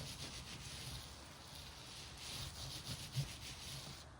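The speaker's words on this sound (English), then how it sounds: "I'm going to rub this just a little bit more on this side" Wet wool felt is rubbed by hand while shaping a felted light bowl, a soft continuous swishing friction with slight rhythmic swells, quiet and close, with no talking.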